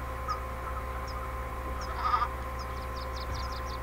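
Short goat bleats from the FarmVille 2 farm game, several brief calls spread across the clip over a steady background music bed, fairly quiet and with no talking.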